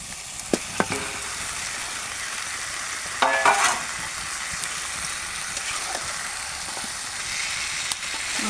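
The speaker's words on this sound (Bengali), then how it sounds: "মাংসগুলো মশলার সঙ্গে ভুনে নেব। ভুনে নিচ্ছি।" Chicken pieces stir-fried in cooked-down spice paste and oil for a spicy chicken roast: a continuous close sizzle with a few sharp clicks of a spatula against the pan and a brief louder scraping burst midway, no talking.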